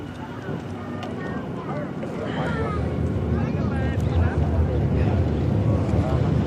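A passenger ferry from Britomart in Auckland, bound for Devonport, runs with a steady low engine rumble, while strong wind buffets the microphone and people talk over it nearby.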